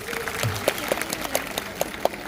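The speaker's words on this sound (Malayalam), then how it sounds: "മെഗാ കൈകൊട്ടിക്കളി അവതരിപ്പിച്ച കുറ്റ്യാട്ടൂർ ശിവദം ടീമിന് നല്ലൊരു കയ്യടി ഒന്നുകൂടി കൊടുക്കല്ലായിരുന്നു" Scattered, modest applause rises after the Kuttiattoor Shivadam team's mega kaikottikkali dance at the Puzhathi Sri Payattya Bhagavathi temple, with individual claps popping out over a faint background.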